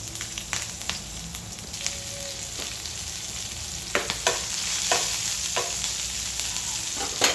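Garlic, ginger and slit green chillies frying in a pan for veg Manchurian, a low steady sizzle with scattered spoon clicks and scrapes, growing slightly louder toward the end.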